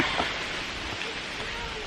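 Steady rain on the Appalachian Trail, a continuous hiss of falling drops at even volume with no pauses or distinct splashes.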